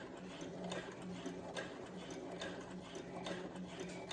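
A Brother CS7000X sewing machine stitches thin dress fabric with a continuous fast, even mechanical whirring and ticking. It is fairly quiet and close, with no talking.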